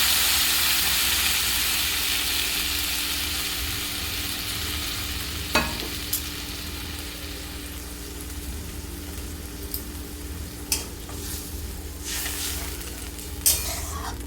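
Water poured into starfruit chutney cooking in a pan sets off a loud, broad sizzling hiss that slowly fades, with a few sharp pops and spatters near the end and no talking.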